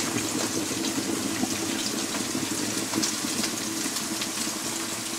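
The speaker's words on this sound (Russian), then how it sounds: "и заливаю этой водой" Freshly boiled water is poured over washed russula mushrooms in a pot for hot salting. It makes a steady, close, continuous rushing splash for the whole stretch, with no voices.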